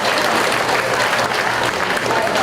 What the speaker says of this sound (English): Let's give our exhibitors a round of applause and congratulate them on a job well done.